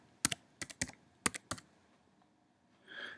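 Short bursts of keystrokes on a computer keyboard while entering a client's name and address into a form, a few quick clustered clicks close up, then a faint unrelated sound at the end.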